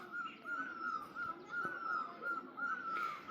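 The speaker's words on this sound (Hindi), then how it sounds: "प्यारी प्यारी धुन सुनाई दे रही है कोयल की" An Asian koel sings outdoors among trees, its repeated high whistling calls coming at a steady rhythm over faint background noise.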